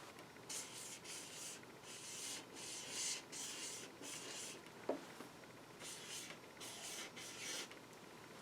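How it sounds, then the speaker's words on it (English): Pencil on paper while flower petals are drawn for a sugar skull, giving soft, steady scratchy strokes in short repeated bursts with brief pauses between them, close but quiet, with one small knock midway and no voices. "So I'm just going to draw the petals all the way around on both."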